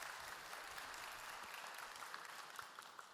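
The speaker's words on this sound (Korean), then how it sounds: "다시 한번 축복 박수로 함께합니다." A church congregation at a Sunday youth service claps in blessing, a faint, continuous wash of many hands heard from a distance at even intensity throughout.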